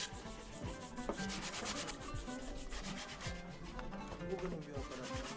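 Hand carving of wood by a craftsman's workshop, with steady close scraping and rubbing strokes of a tool against the wooden surface, a dense continuous rasp without talk.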